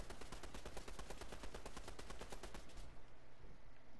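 Rapid bursts of automatic gunfire from a Fortnite match, loud and close, firing in a fast steady rhythm for about two and a half seconds before stopping.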